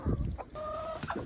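Laying hens cluck in a short run of nearby, moderately loud calls, including one drawn-out tonal note, with no talking.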